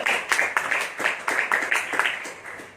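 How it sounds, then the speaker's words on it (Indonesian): A church congregation at an Easter morning service clapping together in a steady, even rhythm, the claps close and fairly loud, with no other sound. "Kita tepuk tangan dulu buat Tuhan."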